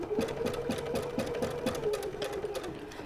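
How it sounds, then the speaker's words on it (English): A domestic sewing machine stitches a small bow onto a fabric pennant, its needle chattering in a quick, even rhythm of about three stitches per second, close and steady for a few seconds with no talk. "Now mine's set to sew on a button, so it's going to tie it off all by itself."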